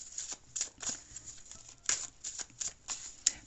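Tarot cards being shuffled and drawn by hand, giving a series of quiet, crisp riffling and slapping bursts spaced irregularly, close to the listener, with no talking.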